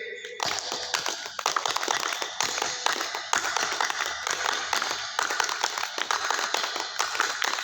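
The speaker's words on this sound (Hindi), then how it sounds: "जोर से ताली बजाइए" Audience applause at a public gathering, loud, dense and sustained, starting abruptly and continuing with steady crackling claps throughout.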